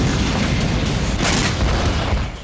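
A Hellfire missile explodes on striking its target, giving a loud, dense boom that fills the whole stretch with a broad, rumbling blast and debris roar before easing slightly at the end.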